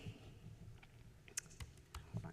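Fingers type on a computer keyboard, producing a handful of soft, scattered key clicks, quiet and close against a low background hum.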